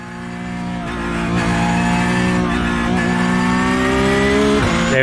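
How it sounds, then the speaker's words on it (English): A Porsche GT3 Cup 992 race car in a racing sim, its engine note climbing steadily under acceleration with a thin drivetrain whine riding above, loud and continuous without talk. "there is a little bit of drivetrain whine there"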